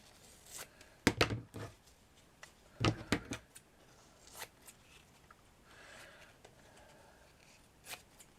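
Craft material for a cushioned trinket box is cut with scissors in a few close, crisp snips in quick clusters, followed by quieter handling noises.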